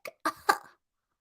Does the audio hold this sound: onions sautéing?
no